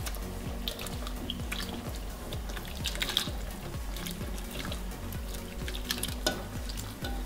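Fried vegetables tipped into a pot of boiling potato soup with beef stew, giving a steady bubbling simmer with soft splashes and stirring, close and fairly quiet, with no talk.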